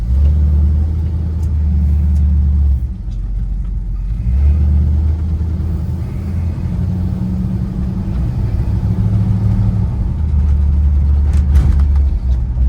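A 1965 Buick Riviera Gran Sport drives along, its engine a low steady rumble that swells and eases as it moves, close and clear with no voices.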